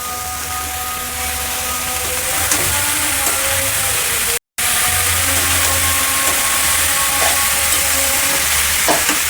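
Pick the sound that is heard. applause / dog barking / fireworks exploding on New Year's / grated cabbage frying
grated cabbage frying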